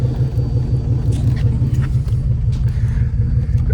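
A Buick Century's engine runs at a steady idle, a close low rumble with a loose, lumpy throb and faint ticks above it, and no talking.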